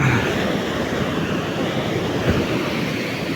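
Ocean waves rolling onto a sandy beach, a steady close wash of surf mixed with wind buffeting the microphone, continuous and fairly loud with no voices.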